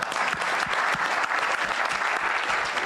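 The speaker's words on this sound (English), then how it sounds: "If you're happy, then kindly clap for us" Sustained applause from a conference audience of medical professionals, many hands clapping densely and steadily at moderate loudness throughout, with no one speaking over it.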